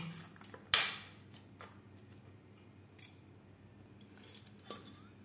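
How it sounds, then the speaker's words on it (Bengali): Chickpeas are mixed with spices and tomato sauce in a bowl, giving faint, sporadic metallic clinks and scrapes of a utensil, one sharper clink near the start, over a quiet kitchen background. "সব উপকরণ দিয়ে ছোলা বেশ ভালো করে মেখে নেব"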